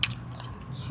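Someone bites and chews crunchy fresh garden vegetables outdoors, including pechay: soft chewing throughout, ending in one sharp, close crunchy bite.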